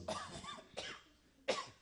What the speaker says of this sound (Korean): 제가 기침이 자꾸 나와가지고